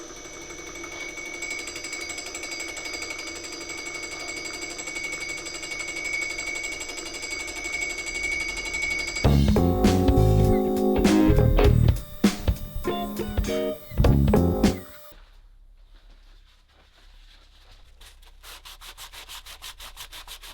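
A milling machine skims an engine block at 0.1 mm depth of cut and 700 rpm on a slow power feed. A steady whining hum carries on, then gives way to loud, harsh grinding bursts before the noise cuts off into a quiet tail.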